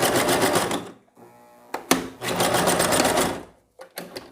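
A sewing machine backstitches a straight skirt seam, running in loud rapid bursts separated by short pauses, with a couple of sharp clicks between stitching runs.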